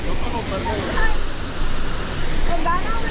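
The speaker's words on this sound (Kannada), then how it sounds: "ತುಂಬಿಟ್ಟಿದೆ ಫುಲ್ ಫಾಲ್ಸ್ ತುಂಬ ನೀರು." Rushing water of Abbey Falls in Coorg roars continuously and loudly at close range, a dense unbroken wash of falling water.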